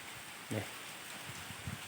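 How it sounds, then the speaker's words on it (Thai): Steady soft rain hiss with a few louder drips and taps landing on a surface, fairly quiet and continuous throughout. "ฝนตกเด้อนี่เด้อตอนนี้ฝนกำลังตกนี่"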